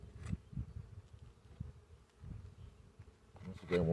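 Honey bees buzz around an open hive box with its cover off, a close, wavering hum with some louder passes near the end. No one speaks.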